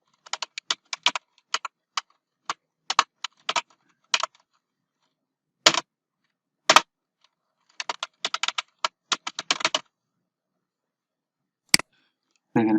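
Bursts of typing on a computer keyboard as a message is written, quick clusters of sharp key clicks separated by short silent pauses, close and clear with no talk over them.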